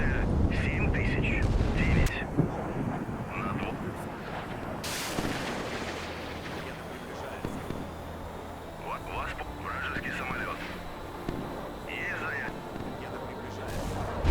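Bombs dropped from a low-flying VTOL jet explode on a naval target in the game Sea Power, a heavy rumbling blast at the start fading into a sustained low roar of engine and fire under a voice.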